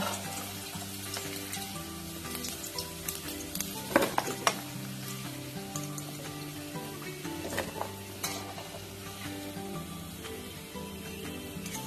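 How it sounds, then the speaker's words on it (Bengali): Chicken pieces fry until crispy in a pan, giving a steady close sizzle and crackle with occasional metallic clinks and scrapes of a utensil against the pan. "চিকেনটা দেখো আমার লাল করে ফ্রাই হয়ে গেছে, এবার আমি এটাকে তুলে নেব।"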